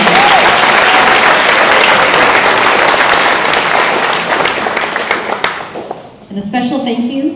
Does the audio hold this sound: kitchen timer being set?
no